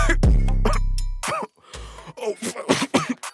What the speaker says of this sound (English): I gotta be careful coughing in the studio